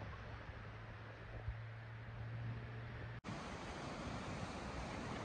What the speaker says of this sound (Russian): Вон морюшко.